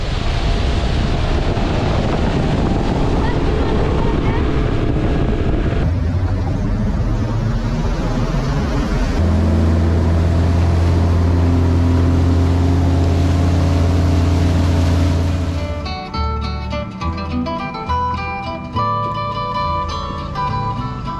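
A worn, unreliable old motorboat drones steadily on open water, its loud engine hum underlaid by wind buffeting the microphone, then easing off toward the end as the engine note drops.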